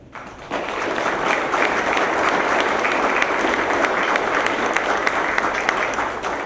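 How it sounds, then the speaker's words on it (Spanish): An audience at a United Nations and national archive transparency event applauds an invited official, with clapping that swells quickly after a brief start and then stays dense and steady. "para quien pido un aplauso."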